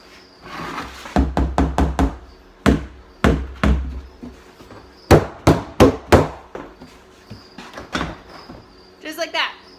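Cardboard egg flats covered in crickets being knocked against a container, giving a series of loud, hollow thumps and taps in quick clusters, close up and fairly dry.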